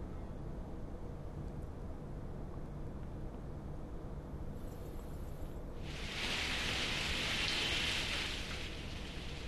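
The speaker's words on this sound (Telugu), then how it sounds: "సోమవారం ఉదయం నుంచి గ్యాప్ లేకుండా వర్షం పడుతోంది." Heavy rain in Hyderabad, a steady dense hiss that swells louder and brighter in the last few seconds, with no voices.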